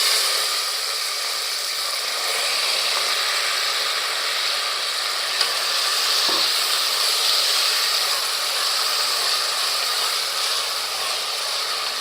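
Peppercorns, cloves, tomato and onion sizzle in a hot pan, a steady broadband hiss of frying with a faint clink or scrape near the middle, alone and without talk.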